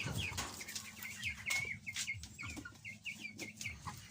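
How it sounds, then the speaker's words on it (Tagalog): A flock of backyard chickens, including black hens, clucking busily at feeding time, overlapping close clucks and chirpy calls with a few wing flaps, no speech. "Ito yung manok namin guys."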